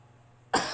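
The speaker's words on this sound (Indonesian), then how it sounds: "saya sedikit agak batuk, sakit tenggorokan." A single sudden cough from a man with a sore throat, close and loud after a near-silent pause.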